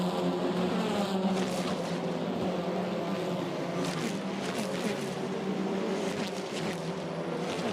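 TCR Europe touring race cars roar past at Spa-Francorchamps, engines droning steadily with brief rises and fades as cars pass, under a continuous loud track ambience.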